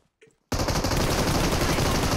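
Gunfire in a battle royale video game erupts as loud, rapid, sustained automatic bursts that begin abruptly after a short, quiet spoken word.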